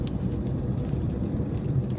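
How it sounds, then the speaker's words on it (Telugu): Light rain patters steadily on a car's windshield glass during a cab drive, a dense, even hiss of small drops close by with a low rumble of the vehicle underneath, no talking. "మన కార్ గ్లాస్ పైన వర్షం చినుకులు పడుతున్నాయి"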